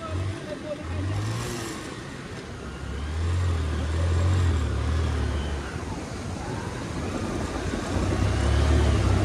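A car engine restarts and revs at a deep water crossing in Zanskar, low rumbling surges that rise and ease over flowing water, with someone talking over the noise.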